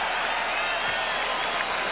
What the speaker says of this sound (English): Gets his first point and gets a cheer from the crowd